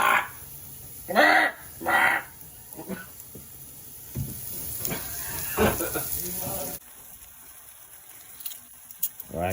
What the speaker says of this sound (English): cooking up some onions to go with our brats